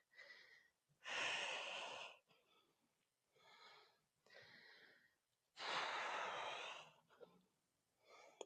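Heavy workout breathing during a full-body exercise set: two strong, drawn-out exhales with quieter inhales and softer breaths between them, close and alone.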